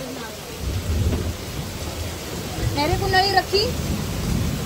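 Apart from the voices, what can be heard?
thunder rumbling with heavy rain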